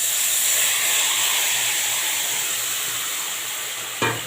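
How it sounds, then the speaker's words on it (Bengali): Sugar-coated grated mango for a sweet-and-sour mango pickle sizzling in a wok, a steady bright hiss that slowly fades, ending with a short clatter, with no one talking. "এবারে ওই কড়াইতে আমি দিয়ে দিচ্ছি চিনি মাখা আমটা"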